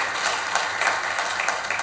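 An audience in Bilaspur applauds to welcome the city's mayor onto the stage at a civic dialogue event, a steady, dense burst of clapping that holds for the whole stretch.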